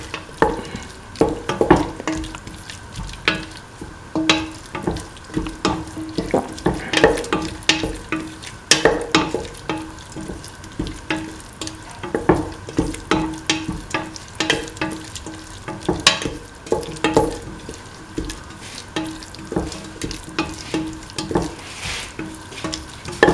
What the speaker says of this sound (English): Thoroughly mix the salt with the rest of the mixture.